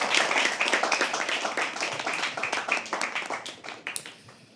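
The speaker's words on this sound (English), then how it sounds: "Can we have another applause for her" Audience applause following a poetry reading at a live open mic, dense clapping that swells early and slowly thins out toward the end, filling a small room.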